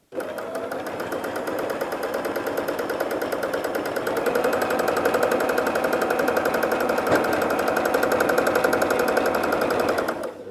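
A home sewing machine stitching quilting lines around a fabric triangle, a fast steady mechanical rattle running continuously for about ten seconds, close and loud, with no pauses.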